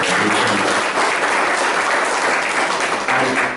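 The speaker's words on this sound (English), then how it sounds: "A big round of applause to the sport association." A packed room at a Jamaica Olympic Association and Jamaica Lacrosse Association press conference breaks into steady, dense applause that holds at full strength from start to finish, close and loud with no break.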